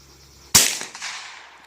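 A single sharp .22 rifle shot fired at a milk jug target cracks out close by, followed by a short fading echo, with quiet before it.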